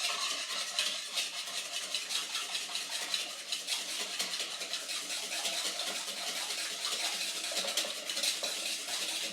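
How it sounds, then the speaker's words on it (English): Eggs are whisked in a bowl for pasta carbonara, a steady, fast, close-up clatter of whisk against the bowl that goes on without a break and with no talking. "Now time for egg whisking."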